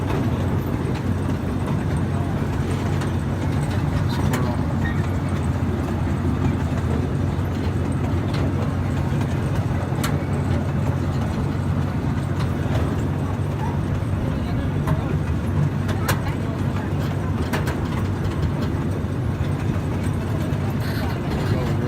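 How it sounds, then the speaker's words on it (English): A one-third scale miniature replica of the 1863 C.P. Huntington locomotive running on a park train ride, giving a steady low rumble and rattle throughout with scattered clicks and knocks, while people talk over it. "Our train is a 1/3 replica of the 1863 C.P. Huntington."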